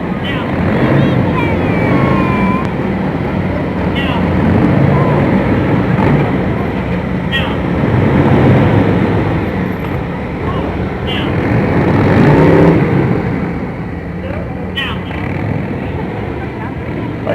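A loud, constant roar of several Ontario Provincial Police motorcycles riding in precision formation, rising and falling slightly, with radio commands spoken over the noise.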